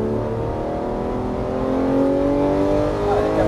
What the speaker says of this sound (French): plus tu vas pouvoir accélérer.